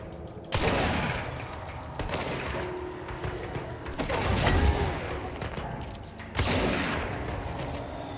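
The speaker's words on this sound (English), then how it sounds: "I love shotguns in video games." Shotgun fire in the video game Control: several loud, sharp blasts a couple of seconds apart, each followed by a booming tail, over continuous game ambience.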